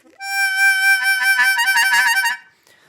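A diatonic harmonica's 6 hole blow note is bent down in an exaggerated way: a single reedy tone slides in pitch at the start, then wavers for about two seconds before stopping, close and clear.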